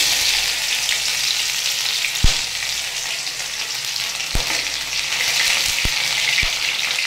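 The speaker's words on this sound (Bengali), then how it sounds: "আদাটা একটু লাল লাল করে ভেজে নেব।" Ginger fries in hot oil in a wok with bay leaf, cardamom and cloves, giving a loud, continuous close sizzle broken by a few sharp utensil taps.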